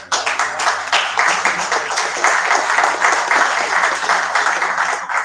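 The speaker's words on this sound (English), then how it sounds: "Let's give a round of applause." A hackathon awards crowd gives a sustained round of applause, steady and fairly loud throughout, with many hands clapping close together and no clear speech.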